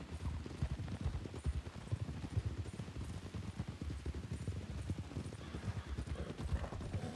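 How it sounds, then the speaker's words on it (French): Horse hooves clip-clop in a western roleplay video game, in a quick, steady trotting rhythm that stays close and even throughout. "Toi, t'es rapide ton cheval."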